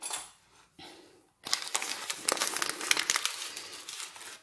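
A yeast packet crinkles and rustles as it is emptied out while bread dough is being prepared, with a faint crackle at the start and then a steady, close run of papery crinkling.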